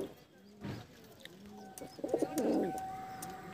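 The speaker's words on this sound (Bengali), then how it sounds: "পায়রা দেখো" Domestic pigeons in a loft coo in low, throaty bursts, growing busier and louder toward the end, with a sharp clap or flutter early on and light room noise throughout; no talking.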